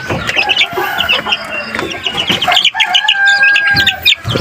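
Backyard chicks peck at wet-fed pellets, clucking and cheeping in a busy, close chorus of short calls and a few longer peeps, loud and continuous with no voices.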